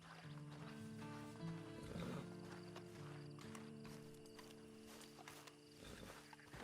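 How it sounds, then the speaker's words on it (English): A horse in Red Dead Redemption 2 clip-clops at a walk with a brief whinny, quiet under a steady tonal game music drone. "Then you better get on this horse."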